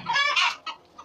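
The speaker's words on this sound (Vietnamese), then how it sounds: "Mọi người nhìn thấy gà là rất là nhiều đây." Chickens on a rural Vietnamese farm cluck close by in a short run of bright, nasal calls, followed by two fainter clucks, with no talk.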